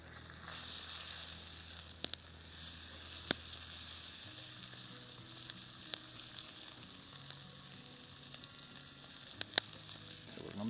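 Wieners frying with bacon and onion in a camp pan in the snowy Canadian backcountry, a steady soft sizzle running throughout with a few sharp crackles and pops, no talking.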